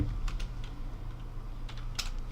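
Computer keyboard typing in a quiet room, a few scattered light key taps over a low steady hum, entering a long number into a program.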